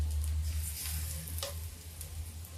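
Pakoras made from gram flour and rice batter fry in hot oil, with a dense continuous sizzle and bubbling, close and steady throughout, and a low hum beneath.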